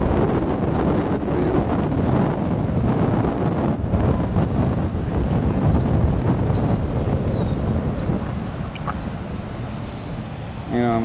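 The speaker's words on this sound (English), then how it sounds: "since it's windy" Heavy wind buffeting the microphone in a loud, continuous roar outdoors, with a voice faintly under it.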